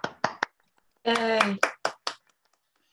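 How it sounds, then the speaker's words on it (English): Scattered hand claps come through a video call for award nominees, a few quick separate claps on either side of a cheerful voice calling out in the middle. "let's give a quick round of applause for all our nominees"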